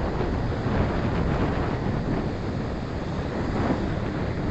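Steady wind buffets the microphone as waves roll and break along the shore at Indian Harbour Beach, Florida, at sunrise, a continuous loud rush with no voices.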